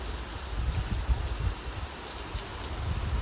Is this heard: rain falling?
yes